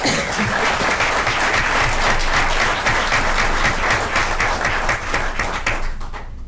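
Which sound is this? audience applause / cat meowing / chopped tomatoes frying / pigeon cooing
audience applause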